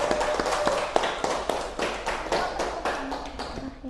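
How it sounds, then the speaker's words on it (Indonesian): Classroom applause from students after a group presentation, rapid uneven claps and taps filling the room, fairly close, with a few brief voices mixed in. "Bisa kasih tepuk tangan dulu."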